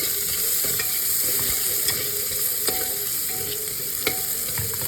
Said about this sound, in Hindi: अब हम प्याज को भूनेंगे।